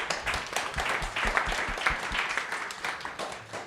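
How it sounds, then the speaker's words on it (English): An audience applauds at a charity and business talk event, a dense, steady wash of clapping from many hands that fills the whole moment without pause. "Round of applause."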